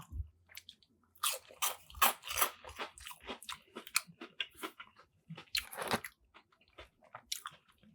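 Close, crisp crunching bites of golden battered fried fish and chewing, loud irregular bursts of crackle separated by short quiet gaps, no talking.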